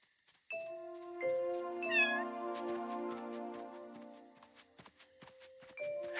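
A cartoon cat meows repeatedly in drawn-out, tonal cries over a soft musical backing, with a light ding and faint footstep-like taps between the calls.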